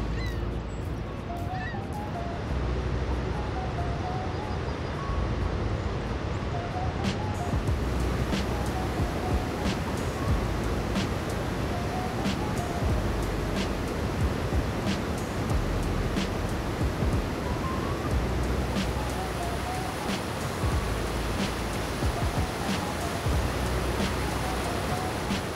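Water pours heavily over Niagara Falls in a steady, loud broadband roar that fills the scene throughout, with faint bird honks or calls scattered above it.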